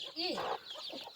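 Local chickens on a poultry farm cluck close by in a brief burst of rising and falling fowl calls.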